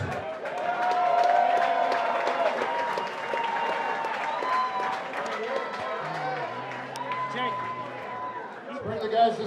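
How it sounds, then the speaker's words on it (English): Arena crowd at a Pure FC kickboxing event applauds and cheers after a fight, a dense sustained wash of clapping and voices with an announcer speaking over it. "How about a round of applause?"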